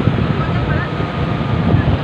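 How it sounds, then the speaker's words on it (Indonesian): Afternoon sea breeze and waves on Padang Beach: a steady, close rush of wind across the microphone blends with the wash of surf, with voices faintly present underneath. "menikmati angin sepoi-sepoi dari ombak yang datang pada sore hari"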